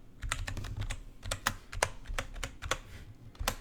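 Keys tapped on a computer keyboard while entering a password, a quick irregular run of soft clicks close by, with no talking.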